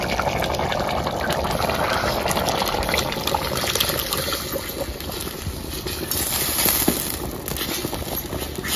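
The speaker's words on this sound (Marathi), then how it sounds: "आता ही राहिलेलं पाणी आपल्याला वतून घ्यायचं ह्याच्यामध्ये." Leftover water poured steadily into a pot of village-style chicken biryani cooking outdoors on a farm, a continuous close splashing gush that runs unbroken for several seconds.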